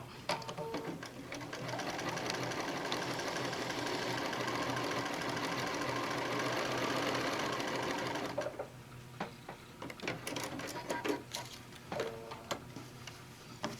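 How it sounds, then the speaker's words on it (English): A sewing machine runs steadily for about eight seconds, laying a long basting stitch along the fabric edge of a Japanese knot bag, then stops, leaving scattered ticks and handling clicks. "I am going to just hug up against the edge and sew"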